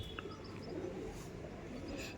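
Madrasi pigeons cooing softly, faint low coos drifting over a quiet room hum with a few light chirps, no talk heard.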